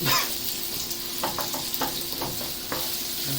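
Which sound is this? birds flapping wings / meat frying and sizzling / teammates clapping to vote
meat frying and sizzling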